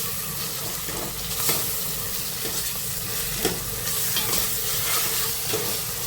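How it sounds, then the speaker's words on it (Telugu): Ginger garlic paste and turmeric stirred and fried in a pan, a steady close sizzle with scraping spoon strokes recurring every second or so, no talk. "ఇప్పుడు వీటిని కొంచెం అల్లం వెల్లిగడ్డ పసుపు కొంచెం ఫ్రై అయ్యేదాకా కలపాలి."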